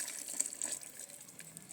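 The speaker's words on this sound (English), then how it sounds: "Our hot margarine mix or milk mix is ready. You see it's hot. So we will pour this inside" Hot margarine and milk mixture poured into red velvet cake batter gives a faint, steady liquid trickle and splash, close and quiet with no talking.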